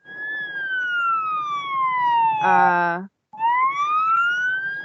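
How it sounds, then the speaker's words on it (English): An emergency vehicle siren wails loudly through the whole stretch, its long falling and rising sweep broken by a brief dropout near the end, with a person speaking faintly underneath. "I'm hearing a siren"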